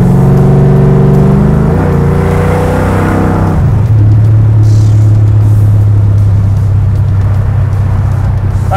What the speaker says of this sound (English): it's idling a lot different than it does at home